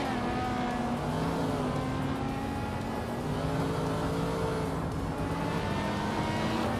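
Several 2008 Ferrari F430 Scuderia race cars in a racing video game drone together in a continuous engine whine, steady and close, their pitches shifting slowly against each other with no break.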